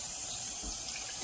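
Running tap water splashes steadily as hands are washed under a kitchen faucet before cooking, a close continuous rush lasting just over a second with no talk.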